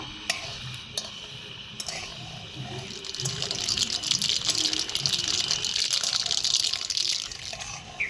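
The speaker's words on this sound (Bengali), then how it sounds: "এবার এই সরিষাটাকে হালকা একটু ভেজে নেব" A spoonful of mustard seeds hits hot mustard oil in a wok, a few sharp clicks giving way to a steady bright sizzling hiss that builds and holds.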